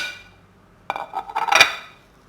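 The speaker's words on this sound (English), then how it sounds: "And mix this well into the flour." Butter and shortening are worked into flour in a mixing bowl for Guyanese blackeye cake, heard as a short burst of scraping and clinking of a utensil against the bowl after a quiet start.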